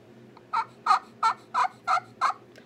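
Six evenly spaced yelps from an acrylic turkey pot call, imitating a young jake's yelp, come clear and close with short gaps between them and no talking.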